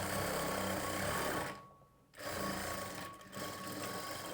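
A sewing machine stitches the side seam of a blouse with a steady, close, whirring drone. The drone breaks off briefly twice and then resumes.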